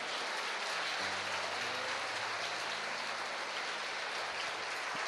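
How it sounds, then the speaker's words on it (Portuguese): Church congregation applauding together during an evangelical service, a steady broadband wash of clapping at even loudness throughout with faint sustained tones underneath. "dê um aplauso poderoso a Jesus essa noite"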